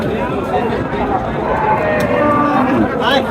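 A pregnant cow moos amid a busy outdoor crowd at Sonaichandi cattle market in Bangladesh, with people talking and chattering close by throughout.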